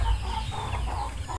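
A hen cackles and clucks in a short, fairly loud run of calls before mating, close to the listener, with low farmyard rumble underneath.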